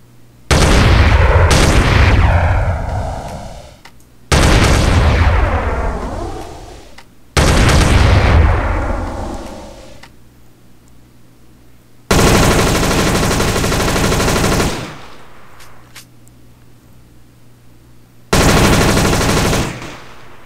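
Bursts of weapon gunfire in GTA San Andreas, loud and close, with several long rapid-fire volleys separated by short gaps, some ending in booming echoing tails.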